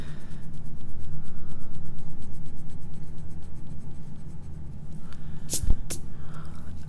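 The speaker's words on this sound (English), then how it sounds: "I'm going to erase my little L and my little R just because we have this part done." A pencil eraser rubbing over paper while drawing a slice of pie, making a continuous rhythmic back-and-forth scrubbing, close and fairly loud, followed near the end by a couple of brief sharp taps.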